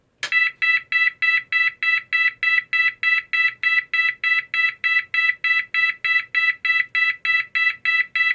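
GE AS363 emergency siren sounding the Swedish 660 Hz intermittent tone, with rapid, evenly spaced on-off beeps repeating loud and steady, no talking.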